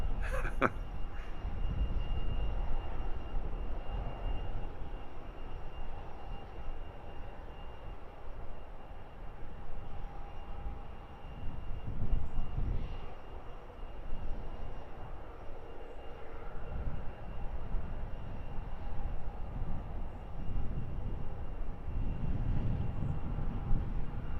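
A Wizz Air airliner arriving to land at an airport around sunrise, heard as a continuous broad jet roar with low rumble that swells briefly midway and holds at a moderate distance throughout.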